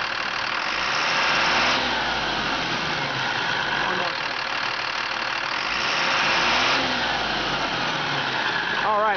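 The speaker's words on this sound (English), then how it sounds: "Go ahead and rev it up, Steve." A truck's diesel engine runs close and loud under the open hood, its rumble swelling and easing as it is revved a few times, with a voice speaking over it.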